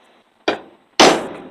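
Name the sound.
hammer hitting a punch on a horseshoe nail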